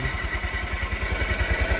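Motorcycle engine running at its first start of the day, a steady close idle with a rapid, even low thump and light mechanical clatter throughout, no voices.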